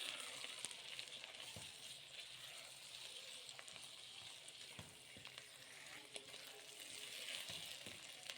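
Half a kilo of mutton liver sizzles in a pan, a steady, fairly faint frying hiss with occasional small pops and stirring clicks throughout.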